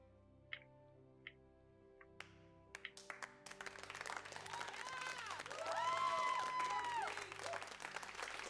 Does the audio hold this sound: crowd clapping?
yes